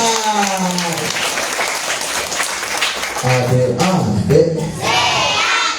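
Clapping from a group of young Quran-memorization students at a tahfidz school gathering, mixed with crowd noise and voices talking over it, rising again in the second half.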